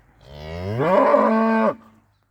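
A single long, close moo from a pregnant milking cow with a calf rises, holds steady and then breaks off abruptly, loud and clear over a quiet background.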